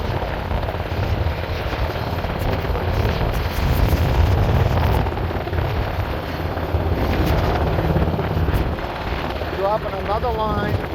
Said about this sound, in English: Helicopter's moving back in place above the ship.